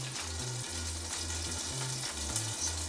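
Onions frying in a pan after sausages, a steady close broadband sizzle with faint stirring scrapes and no voices.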